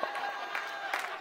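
A church congregation clapping during a Sunday worship service, faint scattered applause with a few louder bursts over roughly a second.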